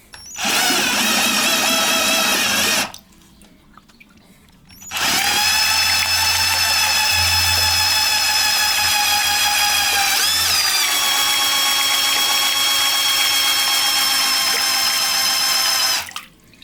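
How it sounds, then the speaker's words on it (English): A Parkside PBZS 5 A1 drill-powered water pump runs loudly in two long stretches, a steady high motor whine with a short silent gap between them, as water is pumped and churned into bubbles. "Now it's making bubbles."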